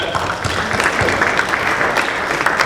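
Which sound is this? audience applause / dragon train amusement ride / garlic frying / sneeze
audience applause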